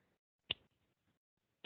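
A single crisp finger snap imitates the clicking of fly larvae chewing tissue in a dog's myiasis. It is sharp and isolated in a quiet room, and a voice begins just at the end.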